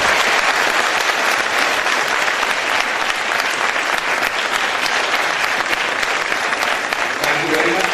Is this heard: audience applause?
yes